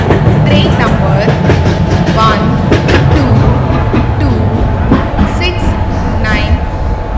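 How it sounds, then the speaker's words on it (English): A Duronto Express train, hauled by a WAP-4 electric locomotive in an Indian train video game, rolls into a station platform with steady clickety-clack of wagons, loud and continuous, while a station announcement voice speaks over it. "Duronto Express is arriving at platform number 2."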